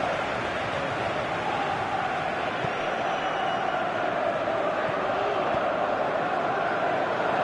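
A stadium crowd in the PES 2019 football video game calls for a shot, a dense, continuous roar of many voices that swells slightly without breaking, heard alone with no commentary over it.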